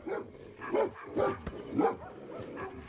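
Dogs playing together, staged to look like a fight, give off a run of rough barks, growls and yips in several separate bursts. The sounds are fairly close and there is no talking.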